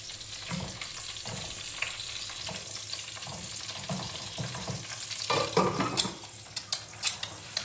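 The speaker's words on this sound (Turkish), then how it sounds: "Bunu da kızartıp yiyeceğim şimdi." Soft sizzling of food frying in a pan, with scattered crackles and a few sharper clinks and scrapes toward the end.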